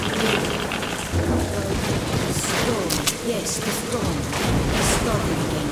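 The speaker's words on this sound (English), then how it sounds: "This storm is insane!" A violent thunderstorm in Metro: Last Light brings heavy, dense rain and gusting wind, with sharp thunder cracks bursting through at intervals. The whole scene stays loud and constant, and a voice talks over it.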